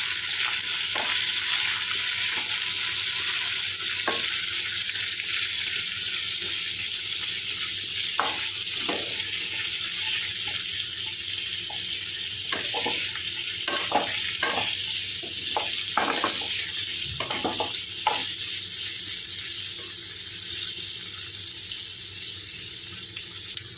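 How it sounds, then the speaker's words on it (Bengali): Yellow and red bell peppers with other vegetables frying in a pan for chilli paneer, a steady close sizzle with scattered clicks of stirring throughout and no talking. "তারপরে দেবো রেড বেল পেপার। এবারে সবগুলো ভালো করে ভেজে নেবো।"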